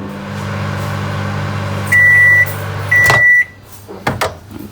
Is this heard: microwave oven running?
yes